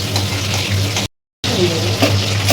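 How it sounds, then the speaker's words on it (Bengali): Three onions sizzle and fry in hot oil in a home kitchen as a steady, loud hiss with crackling, briefly cut off by a moment of silence before continuing, with no talk. "সেই তিনটে পেঁয়াজ তুলে নিয়েছি তেলের মধ্যে দিয়ে দিয়েছি"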